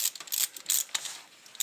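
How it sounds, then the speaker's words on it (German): Ratchet loosening the thermostat flange bolts on a VW Polo 6N2 1.0 MPI, a series of short, close, bright clicking bursts in quick succession, with no talking. "eigentlich ist das ein Job für Magic-Ratsche"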